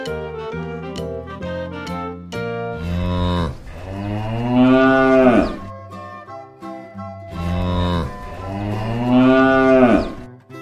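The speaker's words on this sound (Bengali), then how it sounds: "গরু বাছুর দাঁড়িয়ে আছে।" A cow standing with its calf lets out two long, loud, deep moos, each swelling and fading over several seconds, with short musical tones playing before the first.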